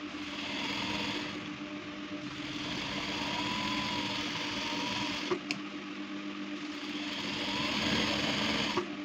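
A sewing machine stitches the crotch seam of palazzo pants, a close, steady mechanical whirr that runs in long stretches with brief pauses and no talk.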